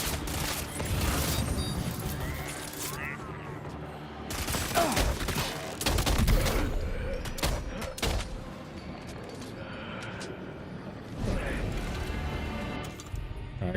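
Gunfire in the video game Death Stranding 2, with clustered shots and mechanical clanks and rattles of weapon handling, irregular bursts rising and falling, while someone talks over parts of it.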